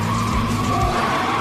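A car skidding during drift practice on a dock, its tires squealing steadily under a revving engine for a short burst.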